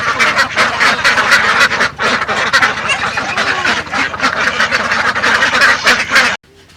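A crowd of farm ducks quacks loudly and nonstop, eager for food, the dense, overlapping calls filling the space close by before cutting off abruptly.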